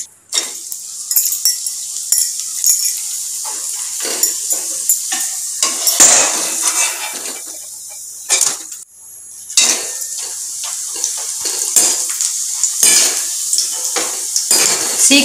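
Sun-dried tapioca fryums frying in hot oil on a simmering flame, a loud close crackling sizzle with frequent bursts and clinks of a stirring spoon against the vessel, briefly dropping out once, with no talk.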